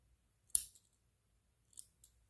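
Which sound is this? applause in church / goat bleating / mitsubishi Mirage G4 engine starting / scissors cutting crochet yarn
scissors cutting crochet yarn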